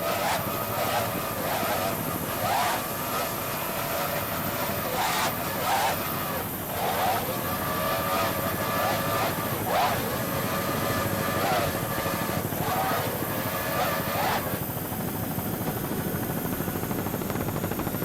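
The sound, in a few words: racing powerboat with Mercury outboard engines on choppy water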